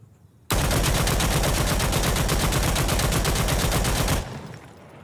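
Sustained rapid automatic fire from a G3A3 rifle in the shooter game Insurgency Sandstorm, fired with a foregrip bipod deployed while crouching; a loud, steady stream of close shots lasting several seconds before stopping abruptly.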